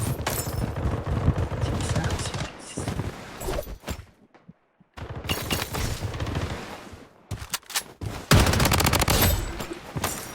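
Bursts of gunfire in the shooter game Blood Strike, loud and dense, with rapid volleys filling most of the stretch, a brief lull in the middle, then further heavy firing, while a voice talks over it.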